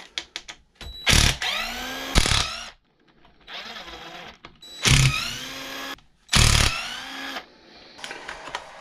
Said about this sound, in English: We're going to start by pulling out 4 bolts out of our bumper.